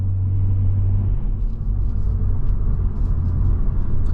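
A Hyundai Veloster N with a dual-clutch transmission accelerates on the road, a loud steady low engine rumble and drone heard from inside the car, with faint higher whines rising in the background.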